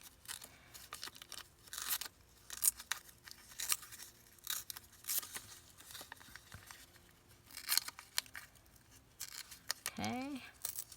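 Paper scraps being ripped by hand for round craft embellishments, giving repeated short tearing bursts between pauses, with a person talking faintly throughout.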